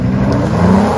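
Engine of a Honda SUV, a Pilot or Ridgeline, revving hard as it climbs an off-road trail, a steady loud drone held throughout with no talk.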